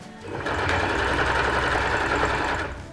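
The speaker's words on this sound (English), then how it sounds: "this titanium needle, oh, wow, what a monster. It's just cruising through all these layers." Sewing machine with a titanium needle stitching through layers of sequin fabric, a fast steady mechanical whirring run lasting a few seconds, close and loud with no talk.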